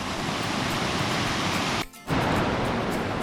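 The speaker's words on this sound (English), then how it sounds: "Like a tiny little waterfall right there." A small waterfall beside a Great Smoky Mountains trail pours in a steady, close broadband rush, briefly cut to near silence for a moment before the roar resumes.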